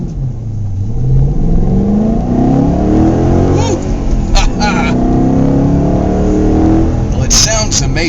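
A 2010 Ford Mustang GT engine with an interior intake tube from the engine bay revs and accelerates. Its loud, rising engine note climbs steadily through the gears, heard from inside the car with faint voices under it.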